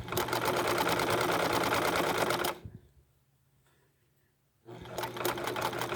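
A sewing machine stitches coiled rope into a bowl wrapped with sari silk ribbon, running loud and steady, stopping for about two seconds of near silence, then starting up again.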